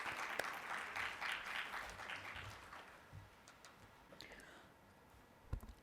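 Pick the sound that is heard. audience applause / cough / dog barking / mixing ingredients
audience applause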